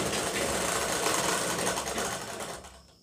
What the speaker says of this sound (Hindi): अब हम यहाँ पर सिलाई लगाना चालू करेंगे